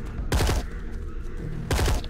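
Two bursts of rapid gunfire, each a tight cluster of several loud shots about a second and a half apart, from shooting barrels in the zombie VR game Into The Dead, over a steady low game-ambience rumble.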